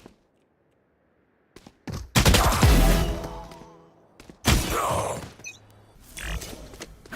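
Gunfire in a competitive shooter match: a few sharp, loud bursts of shots after near silence, close and punchy, separated by short gaps with mechanical clicks.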